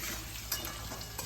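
Crabs fry in oil over a high flame with a continuous close hiss and crackle, broken by a couple of sharp stirring clinks, short and without talk.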